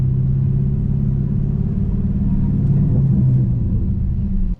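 Dodge Challenger 392 V8 engine rolling in second gear in sport mode on a street, a steady deep rumble from inside the car that rises slightly near the end before cutting off abruptly.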